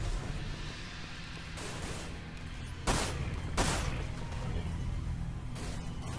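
Gunfire during a Final Fantasy VII game battle, a couple of sharp loud bursts over a dense, rumbling background of game noise, no voices.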